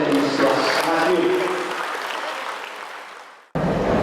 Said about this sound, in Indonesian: tepuk tangan untuk SMP Negeri 11 Madiun